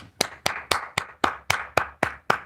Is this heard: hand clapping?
yes